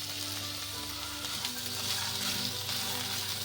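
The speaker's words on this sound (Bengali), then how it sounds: "এগুলো হালকা করে ভেজে নেব" Finely chopped onion frying in oil in a pan with chickpeas for a boiled chana chaat, giving a steady close sizzle with faint stirring scrapes and no talk.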